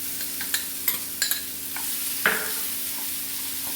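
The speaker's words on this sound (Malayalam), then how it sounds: "നല്ലോണം മിക്സ് ചെയ്യാം." Coconut and seafood being stirred in a frying pan for a Goan dish, a soft continuous sizzle broken by scattered sharp clicks and scrapes of a utensil against the pan, close and fairly quiet.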